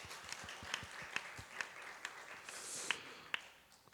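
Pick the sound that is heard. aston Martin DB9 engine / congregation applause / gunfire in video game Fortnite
congregation applause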